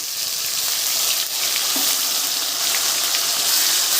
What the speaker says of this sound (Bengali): পেঁয়াজটাকে খুব হালকা করে ভেজে নেব